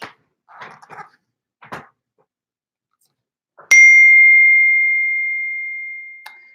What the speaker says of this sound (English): And my phone keeps pinging my computer.